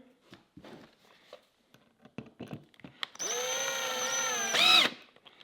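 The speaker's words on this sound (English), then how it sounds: "Send your screw, make sure you turn your drill down." A cordless power drill drives a screw into a wooden plant stand, whining steadily for about a second and a half and rising briefly as it finishes, after scattered handling knocks and clicks.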